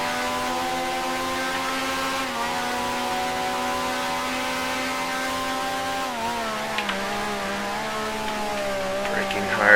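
A 1965-era Formula One race car engine in Grand Prix Legends, at the British Grand Prix, revs as the driver throttles out, a steady high whining drone that climbs and shifts in pitch, loud and continuous, without talk.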